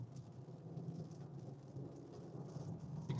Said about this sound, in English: You can see it's going to be raining hard.